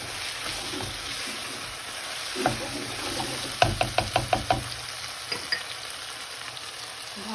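Onions frying in a pan for chicken chow mein, a steady close sizzle with a run of sharp spatula knocks and stirring clatter midway, no talking.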